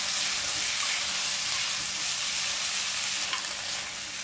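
Boiled potatoes with a pinch of turmeric stir-fry over a medium flame, producing a dense, continuous close sizzle with faint scraping of a spatula, steady in level for a few seconds and free of speech.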